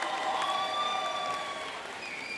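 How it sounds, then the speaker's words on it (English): Graduates at a university commencement ceremony cheer and applaud together, a loud, dense wash of clapping with whoops rising above it, holding steady for a couple of seconds before easing slightly. "I'm going to give you all a chance to cheer."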